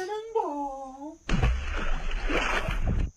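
A person is forcefully dunked into water during a baptism, and a loud sudden splash with churning, sloshing water follows a brief voice before fading out near the end.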